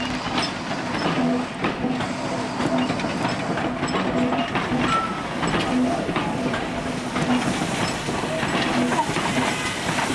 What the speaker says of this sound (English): the auto train, driven from the leading auto coach, number W228, is seen being propelled into the station loop by number 1420